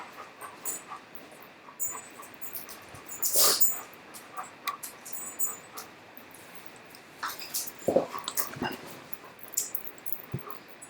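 Three dogs, one of them old, come indoors, with soft whimpers, panting and scuffling through a quiet room, plus a couple of sharper bursts around the middle and near the end.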